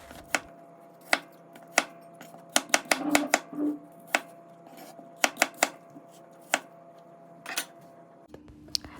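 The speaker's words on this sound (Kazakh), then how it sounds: "Алманы да ұсақтап тураймыз." An apple is chopped finely with a knife on a board, giving sharp, close knocks in uneven clusters with short pauses between them, alone and without talk.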